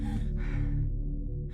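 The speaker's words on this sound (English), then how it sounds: "kind of see her limping and you can hear her panting" A limping female character in the horror video game Eternal Darkness: Sanity's Requiem pants with breathy gasps and sighs, close and steady over a low droning game soundtrack.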